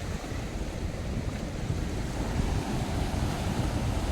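Sea water washes over rocks at Kakinada beach in a continuous rushing, churning surge. Wind buffets the microphone, and no one speaks.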